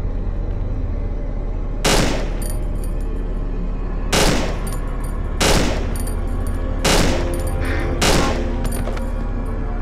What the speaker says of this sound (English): this gun fires in bursts, doesn't it?